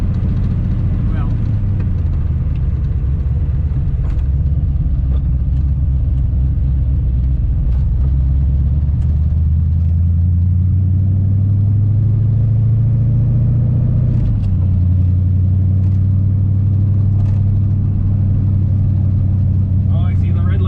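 A Daytona GT car's engine and exhaust drone from inside the cabin while driving, a deep steady rumble whose pitch slowly rises and falls, with voices occasionally talking over it.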